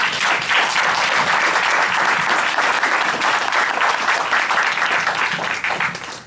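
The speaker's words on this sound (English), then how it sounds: "Please give them a round of applause." Sustained audience applause at a city council candidate forum, a dense steady wash of many hands clapping that holds loud throughout and eases slightly at the end.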